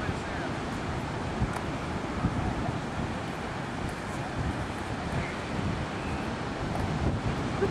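Sea waves break at the shore in a steady, broad wash of surf, with gusts of wind buffeting the microphone throughout and no clear voices.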